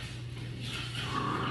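Dogs, apparently puppies, sound faintly in the background of a room during home puppy vaccinations, with a low whimpering or whining near the end over a steady electrical hum.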